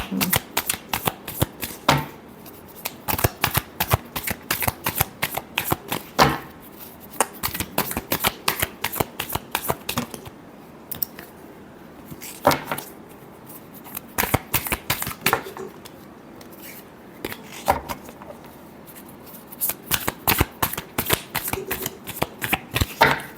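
Tarot cards are shuffled by hand in rapid, crisp riffling bursts, close and loud, repeating with short pauses for over twenty seconds.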